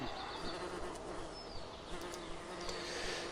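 Honey bees in hive boxes hum in a steady, dense buzz during a hive inspection. Individual bees pass close by now and then, and no one talks.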